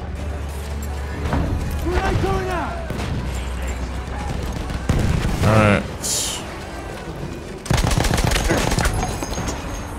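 Gunfire in Battlefield 1 cracks in rapid bursts and single shots, loud and near, with a voice talking over much of the shooting and louder volleys near the end.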